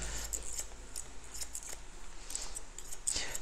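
Straight barber scissors snip through hair during a barbering lesson, with a steady series of light, crisp metallic clicks close to the microphone over a low background hum.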